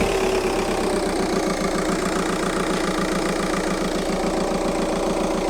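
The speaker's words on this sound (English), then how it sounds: "the engine's running a lot more smoothly" A VW, Skoda or SEAT car engine idles steadily after its alternator clutch pulley and belt were replaced, a loud, even, close-up mechanical thrum with a regular pulsing beat and no chirp, with no voices.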